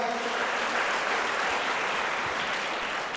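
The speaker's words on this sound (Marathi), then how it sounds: "त्या पुस्तकाचे लेखक सन्माननीय शिवम शिंदे यांच्यासाठी एकदा जोरदार टाळ्या होऊ द्या." An audience at a birthday celebration event applauds in a dense, steady burst of clapping that holds at full strength throughout.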